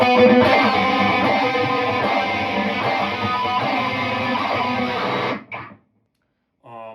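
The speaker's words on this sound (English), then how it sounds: "We use the Ernie Ball pedal here to change the speed of the flange effect." A loud, distorted electric guitar rings with a sweeping flanger effect, its speed controlled by an Ernie Ball pedal, then cuts off abruptly, followed by a brief snippet of speech.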